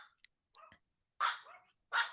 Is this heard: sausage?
no